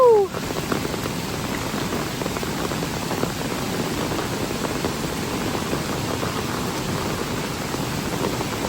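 Continuous heavy rain hisses evenly throughout, a broad steady wash of drops after a brief sharp sound at the very start.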